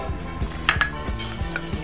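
A utensil clinks repeatedly against a bowl as batter for crispy tilapia is mixed, a quick run of soft, close taps and scrapes with a few brighter metallic chinks.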